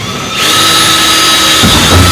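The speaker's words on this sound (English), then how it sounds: "using the 1/4-inch bit, and a drill out these 2 divots here" Power drill fitted with a 1/4-inch bit spinning up and boring into a side panel, a loud steady whine with a higher-pitched tone after a quick start and a slight load change near the end.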